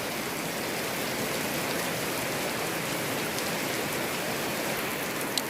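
Steady rain falling, a dense constant hiss with occasional louder drops, continuous throughout.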